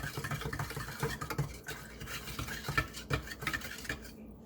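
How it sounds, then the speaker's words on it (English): A butter knife stirs a dish soap mixture for a colorful eruption experiment, giving close scraping and clinking against the container in an irregular run of small strokes with no talk. "I'm just going to use my butter knife that I have, and I'm going to stir it together."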